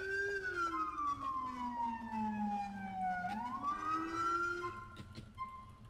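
A police car siren in the video game LCPDFR wails in a long, sweeping tone that falls slowly, rises again, then cuts off near the end, heard fairly close and alone.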